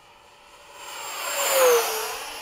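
A Freewing 90mm F-15 RC model jet flies overhead after sunset, its ducted-fan whine rising as it approaches, peaking loud at close range and then easing off as it passes.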